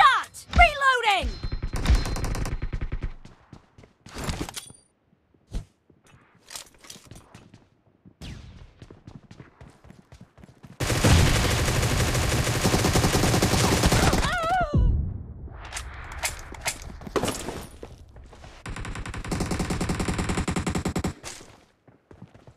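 Groza assault rifle gunfire in an intense video game fight, with loud rapid bursts of automatic fire coming in several separate volleys, the longest sustained stretches roughly midway and near the end, broken by brief single shots and quieter gaps.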